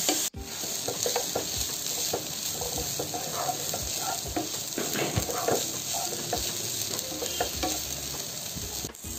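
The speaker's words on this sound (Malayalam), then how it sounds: "ഉള്ളി നന്നായിട്ട് വഴറ്റി വന്നിട്ടുണ്ട്" Chopped onions sauté in a hot pan for tuna thoran, a steady crackling sizzle broken by frequent scraping stir strokes, close and loud throughout with no talking.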